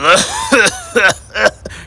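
A voice imitates a sputtering engine with four rough, coughing bursts in an uneven rhythm, close and fairly loud.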